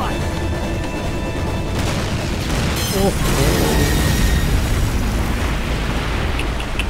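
A bridge and a train blow up together in Call of Duty United Offensive: a loud, broad blast swells into a long roaring rumble as a voice exclaims briefly over the din.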